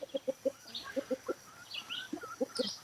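Homestead chickens inside a tall fenced pen give quick bursts of soft clucking, several rapid clucks in short runs with pauses, fairly close but quiet, along with a few higher chirps.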